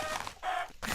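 A chicken in Minecraft clucks in short, close bursts, a few quick squawky calls in a row.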